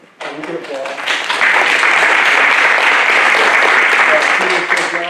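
Sustained audience applause at a district attorney candidate forum held at Cal Poly Humboldt, rising abruptly into steady, dense clapping from a full room that holds for several seconds before easing slightly, with some voices mixed in.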